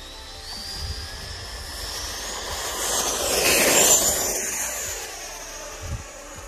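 An E-flite F-16 Thunderbirds 70mm 6S electric ducted-fan RC jet takes off on a windy day. A steady high whine swells as it passes close and then recedes, over broadband wind rush.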